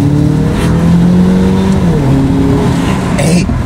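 A tuned Opel Insignia GSI with a downpipe and modified intake accelerates hard, its engine note rising loud and close through the gears, with a brief shift gap and a raspy burst near the end.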